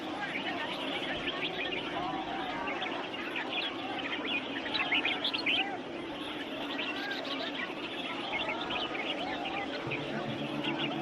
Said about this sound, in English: here participating in a bird singing competition